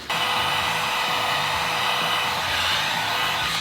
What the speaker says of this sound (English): So if I take my heat gun,